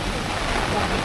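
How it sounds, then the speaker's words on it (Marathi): Heavy rain pours outdoors at a film shoot location in Lavasa near Pune, a dense, loud, steady wash of noise throughout. "जोरात पाऊस चालू आहे"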